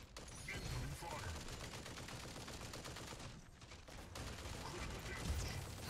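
Rapid video game gunfire rattles in dense, continuous bursts, loud and close, with mechanical clatter and a brief dip midway before the shooting resumes.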